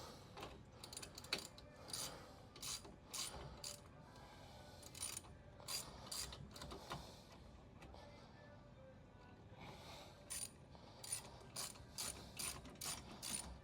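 A hand ratchet tightens a 16mm anti-rattle nut on a Subaru Solterra spare wheel assembly, giving quick bursts of close, crisp clicking separated by short pauses, with a faint voice now and then.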